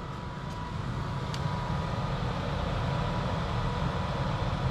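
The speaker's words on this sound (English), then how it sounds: "I wanted to let you hear the motors preconditioning the battery" Steady low hum of a 2022 Tesla Model 3 Standard Range LFP's motors preconditioning the battery, a continuous droning whir with broadband rumble, even in level throughout and heard alone.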